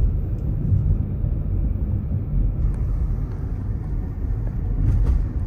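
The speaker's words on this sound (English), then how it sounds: "Couple of planes into Sky Harbor." Planes flying in to land at Sky Harbor airport in Arizona, heard from inside a moving car as a steady, loud, low rumble with no clear separate events.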